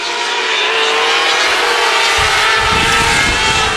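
Race cars roar past on a speedway oval, a loud, close engine howl that swells as they pass, with no voices over it.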